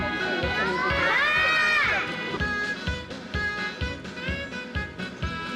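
A crowd of children shouts loudly together at a first-of-September school ceremony, a long sustained yell followed by rhythmic chanted bursts with footsteps and commotion.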